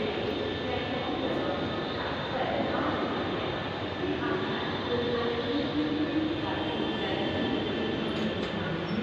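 A train rumbles at a station with a steady, loud, continuous roar of wheels and engine throughout, with no clear talk over it.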